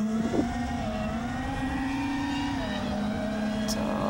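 A small FPV drone motor spins a Gemfan Flash 5152 propeller, giving a steady, fairly quiet whirring drone that holds a near-constant pitch with slight wavering throughout.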